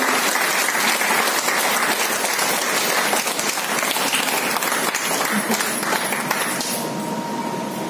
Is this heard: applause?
yes